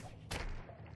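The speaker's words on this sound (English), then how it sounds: "And I hit the explosion barrel there" In the video game CryptRunner an explosion barrel is hit, producing a single short, sharp blast-like thud that rises suddenly and fades within a quarter second over quiet game ambience.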